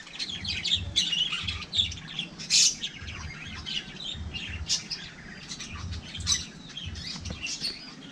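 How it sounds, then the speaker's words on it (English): A flock of birds squawks and chirps in a residential subdivision, sharp harsh calls and quick tweets overlapping at moderate distance against a low background rumble, with no talking. "They have a bunch of birds here too."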